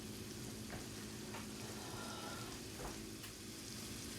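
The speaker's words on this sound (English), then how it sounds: "So this is going to sit here and simmer." A casserole in a pan on low heat gives off a faint, continuous bubbling sizzle with a few soft clinks and stirring taps over it.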